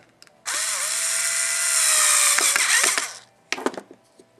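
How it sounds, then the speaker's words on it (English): A small power driver spins a nylon lock nut tight during a Tamiya CR-01 RC car build, one continuous whirring burst of about two and a half seconds with a steady tone, followed by a few brief clicks and rattles. "so we're going to tighten that one up."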